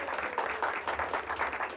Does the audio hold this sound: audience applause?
yes